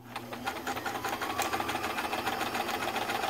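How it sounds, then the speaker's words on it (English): A vintage Kenmore Ultra-Stitch 12 free-arm sewing machine, freshly serviced, runs a straight stitch with a steady, rapid mechanical whir and rhythmic needle clatter, close and continuous. "All right, so let's do some test stitching."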